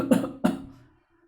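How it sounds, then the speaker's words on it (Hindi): Two quick harsh coughs from acrid chili smoke, close and loud, with the second fading out into silence. "तीखा धुआं उसे खांसने और छींकने से ही फुर्सत कहां दे रहा था"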